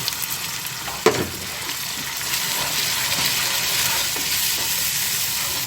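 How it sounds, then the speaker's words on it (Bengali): Spices, onion, ginger and garlic with a splash of water sizzle steadily in a pan for broiler chicken curry, with a sharp clank of the spoon early on and continuous stirring hiss throughout. "পানি দিয়ে কষিয়ে নিচ্ছি।"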